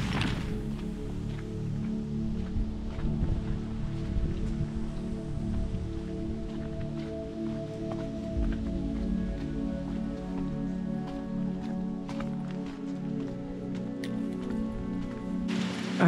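Steady rain patters on the ground and surfaces around on a muddy hiking trail near Ozegoya, a continuous close wash of drops with occasional heavier thuds, no voices.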